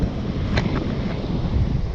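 Stormy weather at a beach with rough surf and a rip current: a constant low roar of wind buffeting the microphone, with the broad rush of waves underneath.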